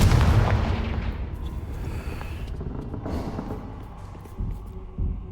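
Blasting spell Confringo cast in the Hogwarts Legacy video game, a loud booming burst at the start that rumbles and fades, followed by smaller thuds near the end.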